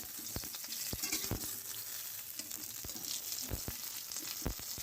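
Fresh fish frying in a pan of hot oil in a home kitchen, a steady sizzle with occasional sharper crackles and stirring clatter, close and continuous with no voices.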